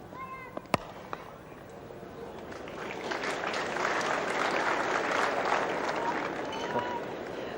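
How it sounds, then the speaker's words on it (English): A cricket crowd at a Test match between New Zealand and Australia at Lancaster Park, Christchurch, applauds a defensive stroke; the broad clapping swells and holds steady after a couple of sharp knocks, with a faint voice early. "rather enthusiastic applause for a defensive stroke"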